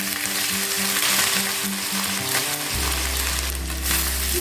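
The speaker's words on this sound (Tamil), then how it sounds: "கருவேப்பிலை போட்டோம்னா நம்ம சிரவி வச்சுருக்கிற இஞ்சி போட்டுக்கலாம்." Curry leaves and grated ginger frying in hot sesame oil for ginger-tamarind pickle, giving a loud, steady, close sizzle that runs throughout with a constant low hum beneath, with no talk.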